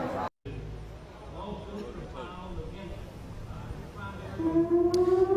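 A civil defense siren begins to wail faintly in the distance near the end, rising over a background of murmuring rally crowd noise.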